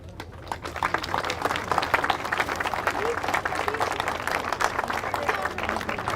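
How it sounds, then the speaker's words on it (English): Applause for the teams after a UIM XCAT World Championship powerboat race in Fiumicino, a broad wash of crowd clapping that swells after the first half second and carries on steadily, with voices in the background. "let's give a round of applause to all the teams who participated in this"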